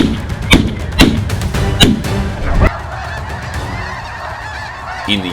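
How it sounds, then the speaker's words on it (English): A flock of snow geese being lured low during a US hunt honk loudly and repeatedly, several close calls punctuating the first half before fading into a busier distant chatter. "a flock of snow geese is lured close to the ground"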